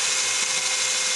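A 3.3mm drill bit boring through a swim fin part for a 3mm screw gives a steady, continuous high-pitched whine. It runs close and loud, without talk, across the whole short burst.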